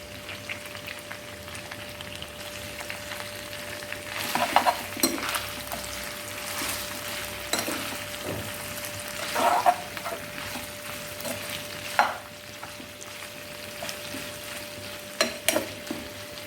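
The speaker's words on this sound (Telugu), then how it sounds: "ఒక చెక్క, 3 యాలకులు, 4-5 లవంగాలు, ఇవి కూడా చికెన్తో పాటే వేసుకొని వేయించుకోవాలి." Chicken fries in a pan with cinnamon, cardamom, cloves and green chillies, making a soft continuous sizzle with a faint hum beneath and periodic louder stirring scrapes and clatters.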